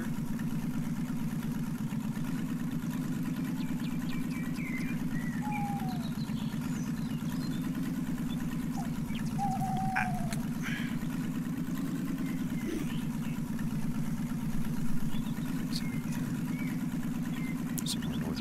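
A vehicle engine idles steadily in the video game Lumberjack Dynasty, a constant low droning hum that never revs, with faint scattered chirps and small clicks over it.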